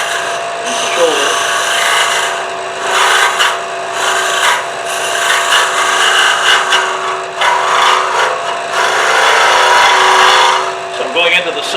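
A lathe tool scrapes and cuts inside a small end grain wooden vessel being hollowed, a sustained gritty rasping with a steady motor whine, rising and falling in intensity as the cut moves.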